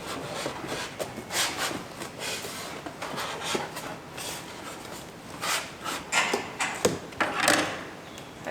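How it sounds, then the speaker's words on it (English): A roller wetting down peel ply with epoxy on a boat in a boatyard, soft repeated rubbing and rolling strokes in uneven rhythm, close and fairly quiet with no talk. "it's so much easier to wet down the peel ply with a roller than a brush, and faster"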